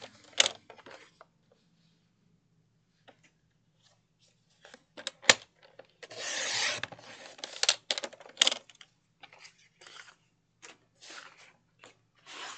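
Paper pieces are trimmed to size for a gift bag, with scattered sharp cutting snips and clicks, one longer slicing swish near the middle, close and quiet amid silence.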